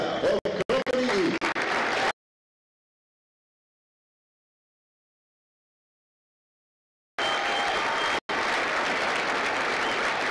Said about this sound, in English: please join me in a round of applause for the company staff of Company E.